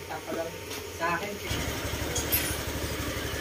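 A Honda Click scooter engine idles steadily after an oil change, a low, even putter that starts partway through at moderate loudness while someone talks.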